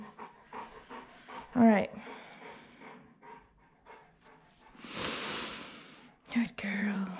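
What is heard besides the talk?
St. Bernard dog panting during a bath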